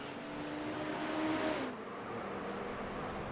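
A GTP race car in a racing video game roars along at high speed, its engine note shifting and dropping off as it runs straight ahead at the bus stop chicane, loud and continuous throughout.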